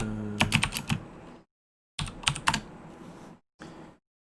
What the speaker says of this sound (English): And now I can type in